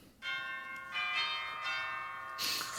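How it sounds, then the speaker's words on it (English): A cottage doorbell chimes in a short series of ringing, bell-like tones, three or four struck notes spaced about half a second apart, fairly faint. "I walked up to the cottage, rang the bell."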